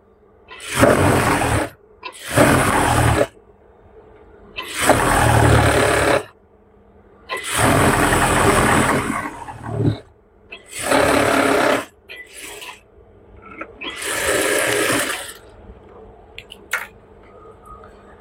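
A sewing machine stitches cotton pajama fabric in six loud, near bursts of a second or two each, separated by short pauses, with no talk over it.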